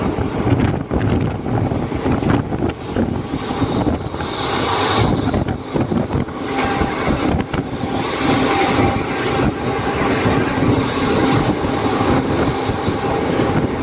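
A train pulls into Tiptur station twelve minutes late, a steady loud rumble of wheels and cars with wind buffeting the microphone throughout.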